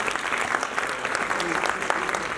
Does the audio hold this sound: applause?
yes